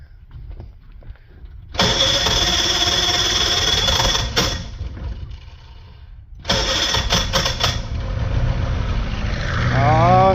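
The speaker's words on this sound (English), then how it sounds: "This is the way I usually start it." A 1963 Sea Ray 700 boat engine cranks and catches twice, each time settling into a loud, rough running roar for a few seconds before dropping away, with a rising whine near the end.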